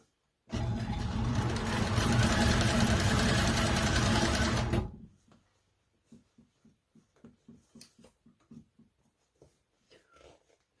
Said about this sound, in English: My table's a little too close to the wall. You can hear it shaking.